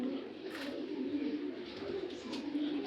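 Racing pigeon squabs from a racing club coo softly and steadily, low murmuring calls close by with faint background noise and no talk.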